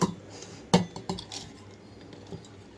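Drained, soaked moong dal is scooped into a mixer jar, with a few close, bright metallic clinks and scrapes of a spoon against the jar that fade into quieter taps.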